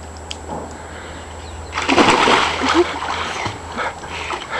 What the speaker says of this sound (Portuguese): Se joga na água que tá gravando